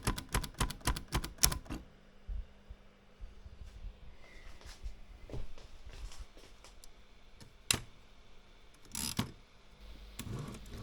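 An Erika typewriter clacks through a quick burst of key strikes, then gives sparse, sharp mechanical clicks and clunks with quiet gaps between them.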